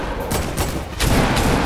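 Gunfire in the Fortnite video game sounds as a quick burst of several loud, close shots in rapid succession over about a second and a half, with no voices.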